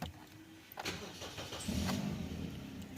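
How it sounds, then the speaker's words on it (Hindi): A Toyota Corolla Altis 1.8 Grande that had a cranks-but-won't-start fault catches and runs, its engine settling into a steady idle, close and moderately loud with no talk. "हमारी जो गाड़ी है ना वो स्टार्ट है"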